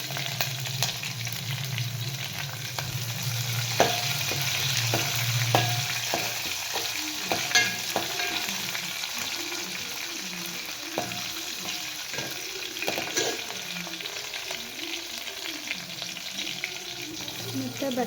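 Chopped chillies fry in a hot pan with a steady crackling sizzle, punctuated by sharp clicks and scrapes of stirring, the oil hiss fading slightly as cooking continues.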